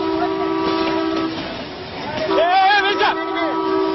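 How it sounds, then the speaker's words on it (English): A fast-approaching train sounds its horn with sustained, loud tones that break off briefly and then resume with a wavering blast, over a steady rumble of rolling wagons. "another train fast approaches. It lays on the horn, but he doesn't even hear it."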